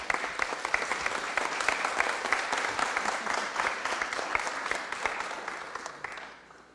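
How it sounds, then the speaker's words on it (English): A city council meeting in Fresno breaks into a dense, steady round of applause from the chamber, loud and sustained throughout before tapering off in the final moments. "let's do a round of applause first"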